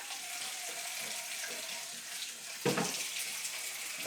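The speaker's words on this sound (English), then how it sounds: "So I'm going to rinse it off 7 times like it said." Tap water runs steadily into a sink to rinse film during home development with CineStill powders, a soft continuous stream with a brief louder splash partway through.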